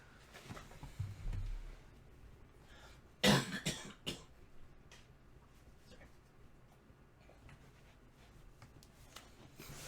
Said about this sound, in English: I'm gonna cough for a bit